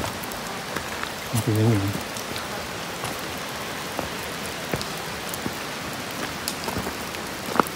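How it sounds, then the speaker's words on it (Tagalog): Heavy rain falling outdoors at a campsite, a steady dense hiss of drops with scattered sharper splats throughout, and a brief spoken phrase over it. "kasi ang lakas ng ulan"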